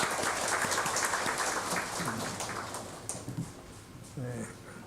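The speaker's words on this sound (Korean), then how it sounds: "주님께 영광의 박수 올립니다." A church congregation at a Sunday service claps in praise, a steady dense wash of applause that fades gradually, with a voice and a few scattered claps over the tail.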